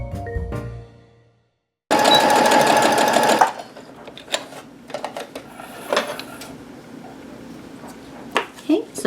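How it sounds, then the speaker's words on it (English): A sewing machine runs in a steady loud burst while stitching quarter-inch seams on quilt block squares, then stops, followed by quieter handling clicks and rustles as a person speaks. "We're going to be sewing on each side. And that's going to be 1/4 inch."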